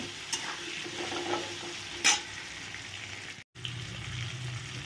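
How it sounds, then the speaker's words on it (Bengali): Potatoes frying in a pan with salt and turmeric, a steady close sizzle with a few stirring clinks and scrapes, no talking. "নুন আর হলুদ দিয়ে ভালো করে লাল লাল করে এটাকে আলুটাকে ভেজে নেব"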